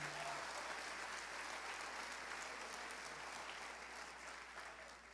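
A church congregation breaks into dense, sustained applause, a steady wash of many hands clapping at once that tapers slightly toward the end, with no voices standing out.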